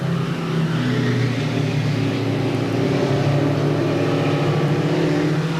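Race cars lap Seekonk Speedway during weekly racing, a steady blended engine roar from several cars at moderate distance, sustained without pause and with no talk.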